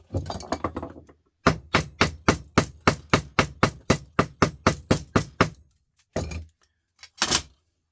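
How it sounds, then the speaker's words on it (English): A run of about fifteen evenly spaced hammer blows ringing on aluminium scrap, sharp and loud, followed by a pause and a few more scattered strikes. "Hit that with a hammer."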